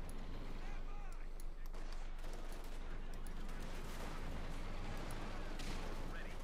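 BAR rifles firing in a Company of Heroes 2 battle, dense overlapping gunfire and distant battlefield rumble continuing under a commentator talking.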